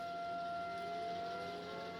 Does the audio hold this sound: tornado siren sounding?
yes